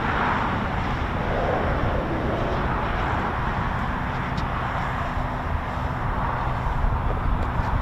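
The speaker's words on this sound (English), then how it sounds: "Looks like we've got another Beechcraft Shadow there" A Beechcraft Shadow aircraft passes over RAF Waddington, its engine drone a dense, steady roar that holds constant and fairly close throughout.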